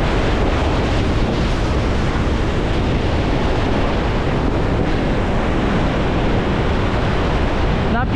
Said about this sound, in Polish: To, co tutaj możecie zobaczyć, to jest ogromna, potężna siła wody, żywiołu niebezpiecznego.